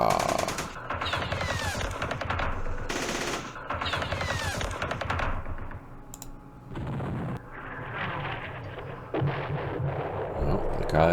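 Direct-fire gunfire in the Vietnam war game Campaign Series Vietnam, set at the Battle of Pleiku in 1968, comes as bursts of rapid shots and clicks, loud and repeated across the stretch with short lulls, while someone talks over it.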